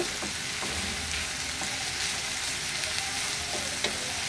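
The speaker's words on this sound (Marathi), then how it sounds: "आता कांद्याचा थोडा चळचळ आवाज येणं कमी झालं" Chopped onions and green chillies frying in a pan give a dense, even sizzle, close and steady throughout, with a few faint utensil clicks and no talk.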